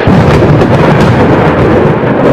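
Thunder rumbles through torrential downpour on New Year's Eve night, a loud, continuous broadband roar of heavy rain with deep low rolling throughout, steady and close with no voices.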